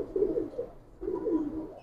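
Kazi pigeons coo in two low, rolling phrases, close and clear with little else around.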